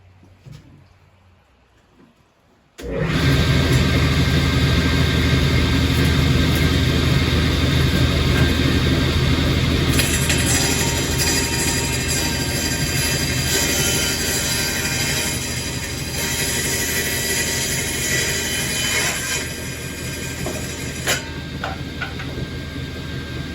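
An old table saw being tried out after fixing, starting abruptly after a quiet moment into a loud, steady motor roar with a high whine that holds for about twenty seconds, close and unbroken.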